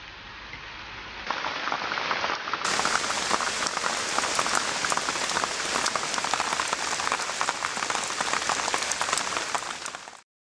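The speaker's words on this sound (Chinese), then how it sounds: "西安下起了小雨。" Light rain falls over an archaeological tomb excavation site in Xi'an, a steady even hiss of drops on surfaces that swells after a quiet start and holds for about ten seconds, with no voices.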